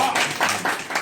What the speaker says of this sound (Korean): 네, 읽을 때 박수 한번 해주시겠죠?